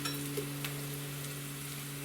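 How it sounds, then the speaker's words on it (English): Chicken pieces for tikka masala fry in a pan with a soft, steady sizzle under a constant low hum, fairly faint and without speech. "You want the pieces a little bit bigger for this recipe because you're going to fry the chicken"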